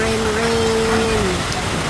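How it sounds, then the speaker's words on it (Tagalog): Rain falls outdoors in the Philippines as a steady, loud, broadband hiss with no breaks, while a voice sings or speaks briefly over the downpour. "Umuulan na naman, wala nang katapusan, rain."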